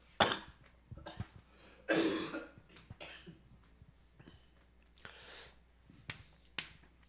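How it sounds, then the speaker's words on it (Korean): Several sharp coughs come in separate bursts, one heavier cluster in the middle, with quiet gaps between them and no talking. "아직도 가래하고 기침이 계속 나와요."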